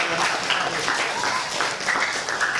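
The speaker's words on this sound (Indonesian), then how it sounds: "Kasih tepuk tangan." Classroom applause at the end of a group presentation in an Indonesian high school lesson, a dense, steady patter of many hands clapping together for a couple of seconds, fairly loud and even throughout.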